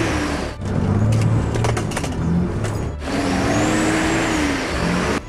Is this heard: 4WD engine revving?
yes